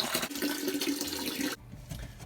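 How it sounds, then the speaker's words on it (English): Water drains out of house plumbing at a shower valve, a steady gushing rush that cuts off abruptly partway through and leaves a quieter trickle behind. "Drain off some of the water."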